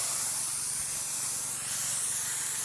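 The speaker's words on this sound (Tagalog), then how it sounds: "Ganyan ho kagandahan pag power spray gamit mga idol." Power sprayer blasting water onto farm crops, a loud, continuous close-up hiss of pressurized spray over a low pump throb.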